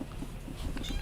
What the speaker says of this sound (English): we have a baby kitten in my room